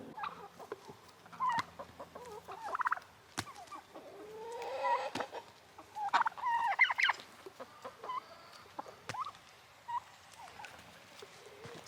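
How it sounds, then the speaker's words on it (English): Several chickens cluck and make short squawks nearby, scattered bursts over a quiet background, with a few clicks and knocks. "let's take this leftovers for the chickens."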